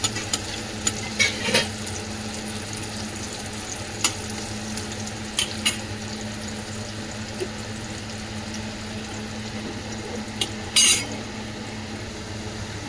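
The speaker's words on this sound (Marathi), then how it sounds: "आता एका कढईमध्ये कांदा आणि लसूण टाकलेला आहे आणि ते असे परतून घ्यायचं" Steady sizzling of onion and garlic sautéing in a wok, with occasional scraping and stirring clicks and one brief louder clatter near the end; no voices.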